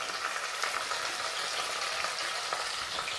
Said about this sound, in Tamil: இப்போது இந்த வெங்காயத்தை அதில் சேர்த்துடுங்க.